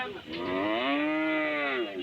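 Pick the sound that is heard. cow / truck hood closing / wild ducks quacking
cow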